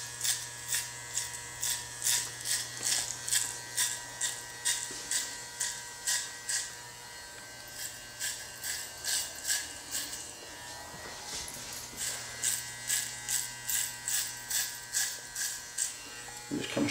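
Electric hair clippers with a 1/4 inch guard fade hair close to the head in a haircut setting, a steady near buzz rising and dipping in quick repeated passes with faint rustling between strokes.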